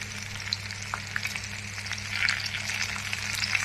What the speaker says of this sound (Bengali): কাজু কিশমিশটা যে ছিল ওটা জাস্ট ভেজে নেবেন।